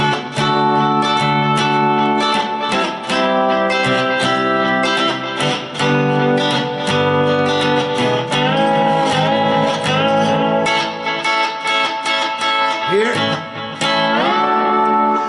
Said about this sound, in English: I'm playing it and lifting up on the bar to chop the note off or chop the tail off it.